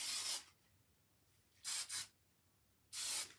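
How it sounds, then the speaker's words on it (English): Hairspray from an aerosol can sprayed onto hair for lift: three close, bright hissing bursts, a short one first, then a double puff, then a final burst, with quiet pauses between. "I just spray right here to give my hair some lift"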